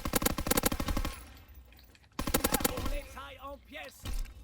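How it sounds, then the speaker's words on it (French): Automatic gunfire in Call of Duty WW2 rattles in a rapid, loud burst of shots, followed by a quieter stretch and more shots mixed with game sounds and a brief voice. "On va mettre des balles, hein."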